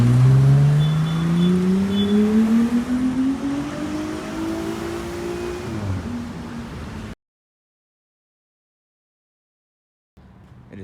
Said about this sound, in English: some burbles there on the downshift